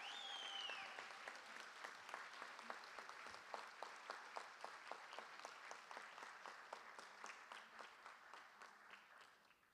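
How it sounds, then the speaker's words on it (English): Applause for Chapman High School band students at a school board meeting: a room full of people clapping steadily, with dense, quick claps that thin out and fade over about ten seconds, with no talking. "give these Chapman High School band students a round of applause"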